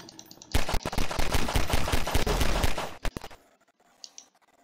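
Rapid pistol gunfire in the video game Garry's Mod, a dense burst of loud shots fired in quick succession for about three seconds, then a sharp stop followed by near silence and a faint click.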